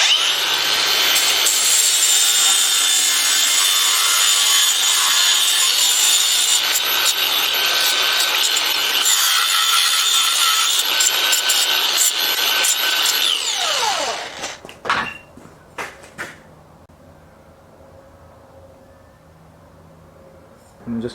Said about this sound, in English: Just going to gently round these internal corners so they don't catch on anything.